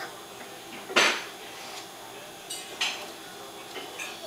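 Pots handled in a home kitchen clatter and clink, with a sharp metallic clash near the start and a couple of lighter knocks later, close by against a quiet room.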